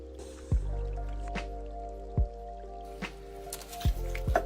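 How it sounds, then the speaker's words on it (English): Liquid poured into a plastic cup holding polystyrene pieces, heard as a few distinct wet drips and squishy plops spaced a second or more apart over a faint steady hum. "We pour the liquid into the cup."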